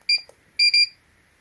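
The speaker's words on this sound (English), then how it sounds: "if you want to turn out the alarm, you should just press this on here" A Regetek BBQ grill meat thermometer sounds its alarm: a single high electronic beep, then a quick double beep, sharp and clear with nothing else in the background.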